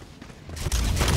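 Gunfire in the game Helldivers 2: a dense burst of rapid shots erupts loud and close midway through, after quieter rumbling combat noise.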